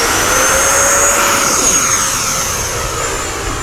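An FMS Yak-130 70mm electric ducted-fan model jet takes off with flaps down, its loud, steady high-pitched fan whine rising and holding throughout, with no talk over it.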